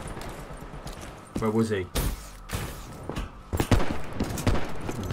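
Video game gunfire cracks out in several sharp shots and short bursts, mid-distance, while someone talks over the action.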